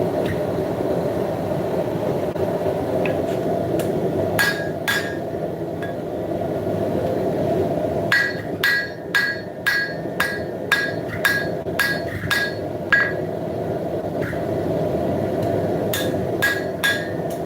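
A blacksmith's hammer rings on hot metal while hot fitting a small S-guard at the forge, first in a few isolated blows, then a steady run of sharp metallic strikes, with a couple more toward the end over a constant low roar.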